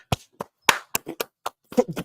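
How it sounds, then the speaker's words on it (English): A single person claps hands in a sparse, uneven series of about ten sharp, close claps over two seconds, with clear silence between them. "Round of applause to Danish, man."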